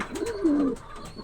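A pigeon gives a single soft, throaty coo up close, a brief rolling call.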